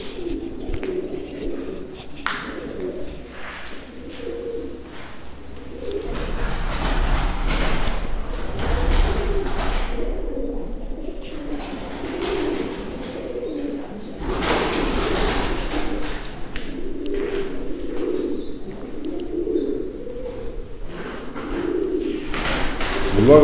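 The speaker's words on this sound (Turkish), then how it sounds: "Şu böyle Ermeni zinciri dedikleri kuşlar." Ermeni zinciri (Armenian chain) Mardin tumbler pigeons, a male and female pair, coo in repeated low throaty bursts, near and steady, with flapping and loft noises between the calls.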